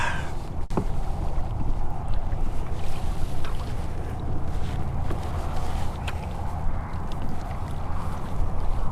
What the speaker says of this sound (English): It's about 20 to 30 mile per hour winds.